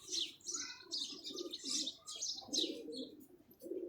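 Pigeons coo nearby in soft repeated phrases, with higher chirps mixed in, several calls overlapping over a few seconds.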